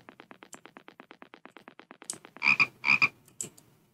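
Frog croaking in the Play Together video game: a fast, steady train of short croaks, then a few louder, longer croaks near the end, clear and alone.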